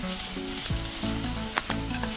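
Kakara pitha stuffing of raisins, cardamom and nutmeg powder sizzles steadily in a hot pan while being stirred and mixed, with a few sharp scraping clicks over the continuous frying hiss.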